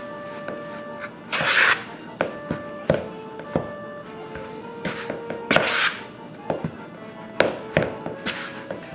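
A spoon knocks and scrapes in a bowl while mixing no-knead focaccia dough, giving irregular close taps and thunks with soft rubbing between them, over a faint steady tone.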